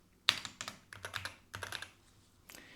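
A computer keyboard clacks in short bursts of close, crisp keystrokes, a quick run of taps that pauses and then resumes briefly, with no speech.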